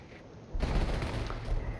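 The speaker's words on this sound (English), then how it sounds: "Artillery coming in somewhere." Artillery and gunfire in a Company of Heroes 4v4 urban tank battle, with a rumbling barrage that starts abruptly and keeps rolling as dense bursts.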